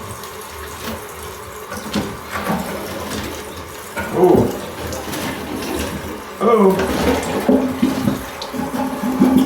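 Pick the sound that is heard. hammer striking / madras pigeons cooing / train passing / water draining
water draining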